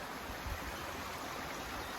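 Stream water flowing steadily beside a hiking trail on the Appalachian route between Neels Gap and Hogpen Gap, a close, continuous broadband rush with no voices.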